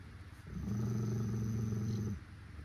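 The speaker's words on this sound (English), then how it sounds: "Stop, you're growling." A pet dog growls in a low, steady rumble for about a second and a half, fairly close and loud, with no talk over it.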